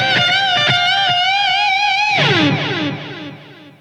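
Sustained electric guitar lead from a guitar solo, singing held notes with wide bends and vibrato, then a downward bend sliding off and fading, loud and unaccompanied by voices.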